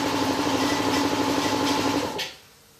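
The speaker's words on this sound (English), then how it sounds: "It was just my bloody compressor starting up there" An air compressor in a home garage runs with a loud, close, droning motor hum, then cuts off and fades to quiet near the end.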